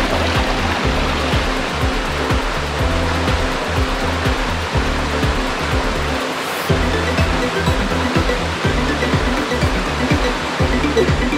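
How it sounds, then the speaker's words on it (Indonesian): A waterfall on the trail to a Baduy village roars loudly and continuously, a dense, unbroken rush of falling water close by with no voices. "Lihatin air terjun lagi."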